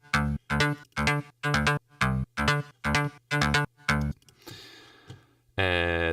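A main bass synth made in Spire repeats rhythmic, buzzy stabs about nine times in a steady pattern, followed by a brief noisy swell and a final sustained held tone, heard alone without talking.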